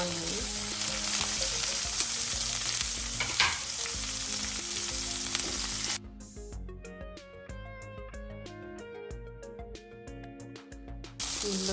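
Chopped onion fries loudly in a hot pan for gongura paneer fried rice, a dense close sizzle for about six seconds before giving way to music, then the sizzle returns at the end.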